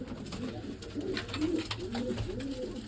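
Pigeons coo softly and repeatedly, a low rolling murmur that carries on steadily without pause.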